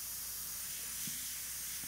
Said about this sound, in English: And I'm just gonna spray